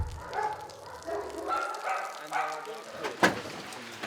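Abandoned dogs at a shelter in Ukraine bark and yip in several overlapping bursts, near and fairly loud, with a sharp louder bark toward the end.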